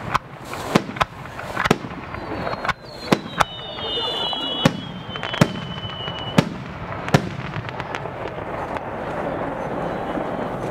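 Fireworks bursting at the Aizu Fireworks Festival in Aizuwakamatsu, Japan: a rapid series of sharp pops and booms, some distant and some louder, with a whistling rocket streak and crowd ambience between the bangs.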